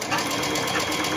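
A sewing machine stitches doll pants, a fast steady close mechanical rattle running throughout at a constant rhythm.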